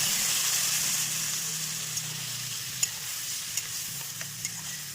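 Banana flower curry stirred in a pan with reddish-fried onions, a steady close sizzle with scraping spoon strokes and a few sharp clinks, no talking.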